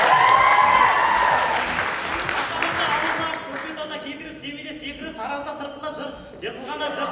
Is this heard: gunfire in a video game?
no